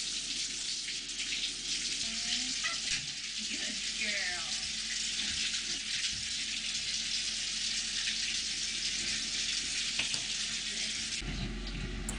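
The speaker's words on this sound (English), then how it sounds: "I start out by setting the water lukewarm." Steady rush of water running from a tap, continuous and fairly close, with a brief voice near the start and a clunk near the end.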